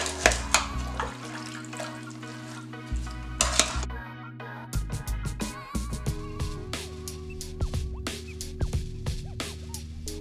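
A spoon stirs chicken stew with habanero hot sauce and other ingredients inside an Instant Pot, giving repeated close scraping and clinking against the metal insert over a steady tonal background.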